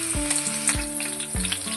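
Green chillies fry in hot oil in a pan, a loud steady sizzle with sharp bursts of crackling spattering and a few stirring clinks, close up and without talk.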